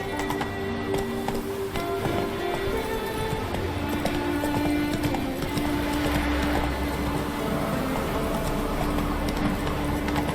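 Horse galloping in The Witcher 3 video game, a fast, steady clatter of hooves running continuously over a dense bed of game music and ambience.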